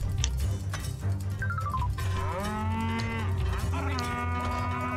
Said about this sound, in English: Oh, there's a cow.